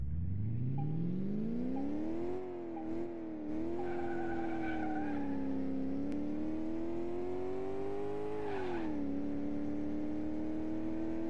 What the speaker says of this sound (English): which we're doing basically just for the engine note of the straight six